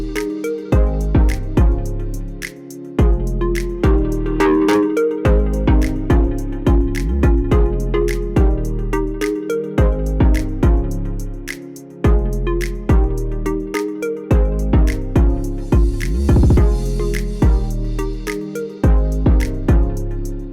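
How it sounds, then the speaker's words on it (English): Electronic dance mix with Logic's tube overdrive saturation thickening the mid-range, carrying a pumping kick-driven groove with regular beats and dropouts, loud and continuous. "you can just hear that tube distortion just bringing out those mid-range"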